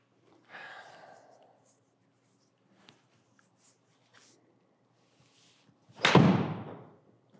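A golf iron strikes a ball solidly during a players' distance irons comparison, one sharp crisp impact cracking out loudly near the end after a quiet stretch with faint murmurs earlier.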